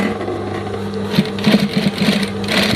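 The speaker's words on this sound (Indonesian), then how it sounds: "Untuk cara jahitnya sendiri yaitu kain bawah dipegang, juga kain atas dipegang supaya tidak mengkerut hasilnya." A sewing machine stitches through fabric, its steady motor whir joined by a quick run of rapid needle clatter in the latter half, close up and without talk.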